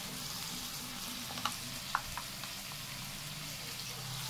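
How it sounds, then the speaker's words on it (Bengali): Ground spices such as coriander, cumin and turmeric fry in a pan of cooked-down masala, giving a steady soft sizzle with a few faint clicks of stirring, close and quiet with no talking. "মশলাটা কষা হয়ে গেছে, এবারে গুঁড়ো মশলাগুলো দিয়ে দেবো"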